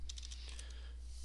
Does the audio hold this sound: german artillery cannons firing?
no